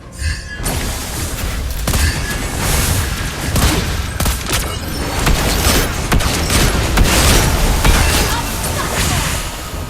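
Lesley's gunfire in the mobile game Mobile Legends: Bang Bang ranked mode, a dense barrage of loud shots, booms and mechanical whooshes layered over game effects, continuous and punchy throughout.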